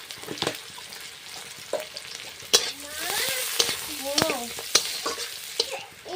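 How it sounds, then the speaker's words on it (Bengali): A spoonful of panch phoron spices sizzling and crackling in hot oil, with a steady hiss, sharp pops and a few utensil knocks close by. "তেলে তো এক চামচ পাঁচ ফোড়ন দিয়ে দিলাম"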